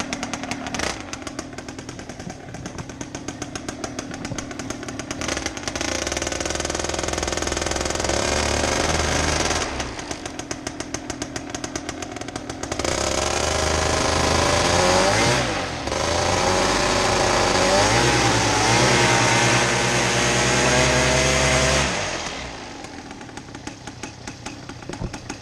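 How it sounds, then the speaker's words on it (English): A BlackHawk 125 paramotor engine fires up and revs hard with a loud, buzzing roar, rising and falling in pitch several times before dropping back, tested in light rain after carburetor cleaning. "We're going to do a little test here, just get the engine started up."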